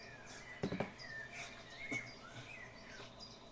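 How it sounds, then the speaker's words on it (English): Birds call outdoors in Denmark, with a few sharp chirps and thin whistled notes scattered over faint background noise. "Love the sound of the birds."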